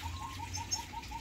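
A Red Siskin at the feeding tray gives a string of faint, evenly spaced chirps over a quiet, soft background.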